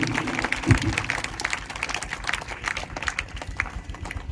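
Applause from a school morning assembly crowd, a steady patter of many hands clapping at moderate volume, with a faint voice underneath.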